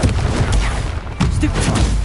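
Expulso and Confringo spell blasts in the video game Hogwarts Legacy, dense booming explosive bursts in quick succession that fill the short stretch, loud and close.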